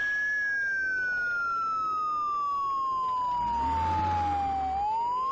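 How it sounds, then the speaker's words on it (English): An ambulance siren in the video game Project Zomboid wails in a long, steady tone that slowly falls in pitch, with the vehicle's engine rumbling louder toward the end as it drives away. "We'll continue with the siren as we drive away here."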